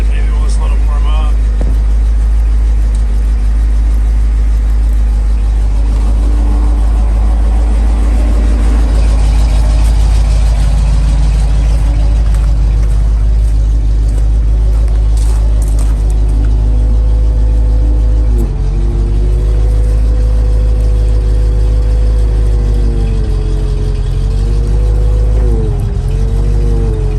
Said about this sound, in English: the hydraulic pump is engaged. I'll usually kick it up to a high idle. Starting to whir a little bit